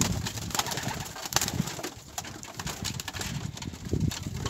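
Pigeons cooing close by as they gather at freshly brought water, soft repeated low coos over a background of rustling, a little scraping and occasional wing movement.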